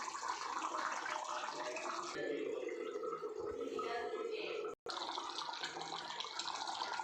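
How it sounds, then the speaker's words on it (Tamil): Chicken gravy boils vigorously in a pot on the stove with a steady, dense bubbling hiss that runs throughout and is briefly cut off just before the end. "நல்லா கொதிக்குது."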